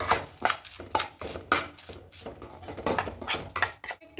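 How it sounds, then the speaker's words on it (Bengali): A utensil stirs and scrapes semolina as it roasts in a pan over a medium gas flame, giving close, repeated metallic strokes in an uneven rhythm with no talking. "একটু নাড়াচাড়া করে সুজিটাকে ভেজে নেব"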